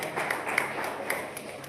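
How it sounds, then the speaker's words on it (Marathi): A welcoming audience claps at a Marathi religious gathering, a dense steady patter of many hands lasting throughout, moderately loud with a few sharper individual claps standing out. "सर्वांनी टाळ्या वाजवाव्या."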